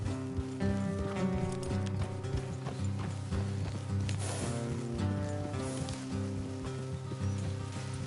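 Horses clip-clop steadily through a video game scene, hooves thudding in a continuous rhythm over a dense bed of game music, with no voices.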